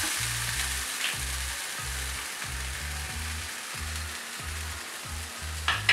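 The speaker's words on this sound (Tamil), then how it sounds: "இப்போ அடுத்து தேங்காய் துருவில போட்டுறோம்." Grated coconut sizzles steadily in a hot pan for moong dal upma, an even crackling fry with a soft stir or scrape near the end and no voices.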